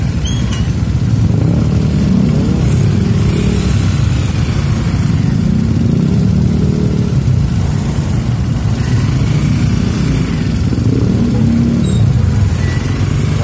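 Steady, loud road traffic along Rizal Avenue in Manila's Santa Cruz district, a continuous rumble of car and motorcycle engines with occasional revving, heard from within the flow of vehicles.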